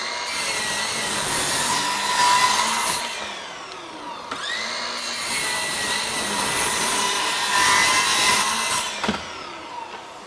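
A Ryobi 18V 7-1/4 inch sliding compound miter saw cuts wood, first without and then with dust collection, its motor whining loudly and steadily for about ten seconds with a brief dip midway.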